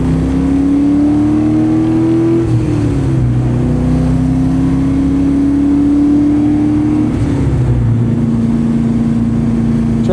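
Corvette C6 Z06 engine pulling hard down a track straightaway, a loud steady drone that climbs in pitch, drops briefly at a shift around the two-second mark and again later, then keeps building, with no voices.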